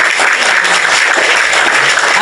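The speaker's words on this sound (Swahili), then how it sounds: "let us clap for Alma Mudeu." Loud, sustained applause from an audience, a dense, even patter of many hands clapping close by without a break.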